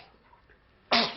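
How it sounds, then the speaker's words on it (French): A single short sneeze bursts out near the end after a quiet moment in a French television news report, close and fairly loud. "à tes souhaits"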